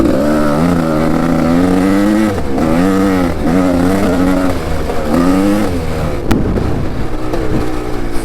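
A dirt bike engine revs close by, its steady throaty drone swelling and easing in repeated surges before dropping to a rougher idle near the end, with no voices.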